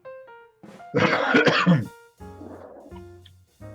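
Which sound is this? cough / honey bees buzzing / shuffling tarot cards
cough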